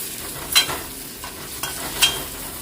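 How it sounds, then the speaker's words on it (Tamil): Onions and fenugreek seeds sauté in a pan for dried-fish curry, a soft steady sizzle broken by a few sharp scraping stirs of a spatula, close up and without voices. "வெங்காயம் வந்து இந்த அளவு வதங்கின பிறகு கொஞ்சமாக வெந்தயம் ஆட் பண்ணுறேன் இப்போ நல்லா மிக்ஸ் பண்ணி விடுவேன்"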